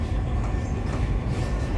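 Inside a moving metro train, a continuous deep rumble and rolling rail noise hold steady and loud for the whole stretch, with no talking.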